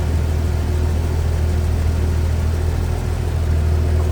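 A 1953 Chevrolet Bel Air's 235-cubic-inch inline six-cylinder engine with a single carburetor idles steadily and smoothly, a continuous low, even rumble close by with no talking.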